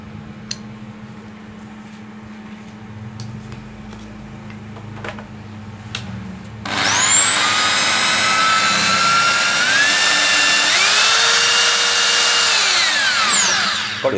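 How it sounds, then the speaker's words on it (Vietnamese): A Hitachi electric drill starts up loudly after a few seconds of quiet handling noises, then runs with a steady high whine that rises in pitch as it speeds up. "Đè này xuống rồi đút mũi khoan vô nha mấy anh."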